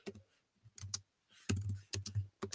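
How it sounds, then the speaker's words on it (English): Close, quiet bursts of keystrokes on a computer keyboard, a few quick clicking clusters separated by short gaps, with no talking. "So I'm going to go back over here and type this in."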